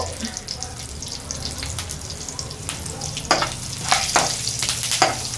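Curry leaves fry in hot oil for a dhal kichadi, a crackling sizzle with louder spitting bursts near the end, close by, with faint background noise.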